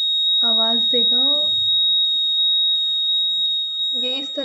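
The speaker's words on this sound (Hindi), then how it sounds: "तो ये बजर" A buzzer on a cardboard rain detector model sounds as a steady, high-pitched continuous tone throughout, under a person talking at the start and end.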